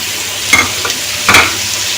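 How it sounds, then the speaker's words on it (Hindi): Pumpkin curry with turmeric being stirred in a pan: two distinct scraping strokes rise over a loud, continuous fry sizzle, close and without any voices. "मिक्स करूँगी और अब इसमें इसके अंदर हल्दी डाल दूँगी।"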